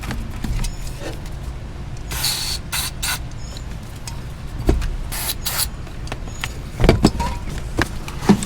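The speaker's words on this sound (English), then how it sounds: "QD Contact Cleaner by CRC. Give that a little spray." CRC QD contact cleaner sprayed onto a car wiring plug during a hatch washer repair on a 1988 Jeep Cherokee XJ: several short, sharp aerosol hisses, close by, separated by quiet handling noises.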